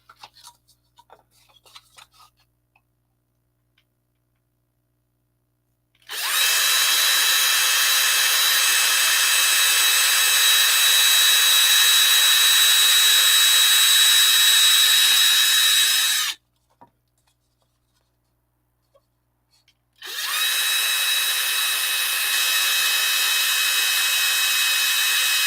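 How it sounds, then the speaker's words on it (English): A power drill bores through thick polystyrene in two long, loud, steady bursts separated by a short pause, with quiet handling clicks before the first burst and no talk. "I should drill it right there."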